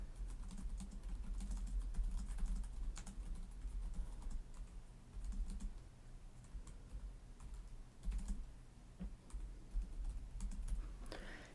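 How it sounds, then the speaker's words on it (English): Typing on the keyboards of Acer Predator Helios Neo 16 gaming laptops, a close, quiet, continuous patter of key clicks with occasional sharper taps. "so they're both really nice keyboards. Better than anticipated in both cases."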